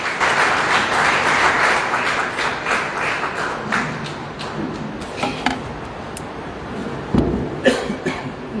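Audience applause at a book launch and literary discussion, steady clapping from the gathered crowd that thins out into scattered claps and a few knocks and coughs toward the end.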